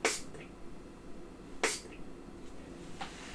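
Two short hissing bursts of an aerosol spray, about a second and a half apart, close and fairly loud, with a fainter puff at the end.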